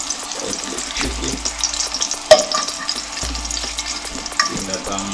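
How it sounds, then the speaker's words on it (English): A green banana in its skin frying in hot oil for a Jamaican dish, with steady close sizzling, scraping and stirring as it is turned in the pan, with no talk. "So I'm gonna turn it over so that part sits in the oil."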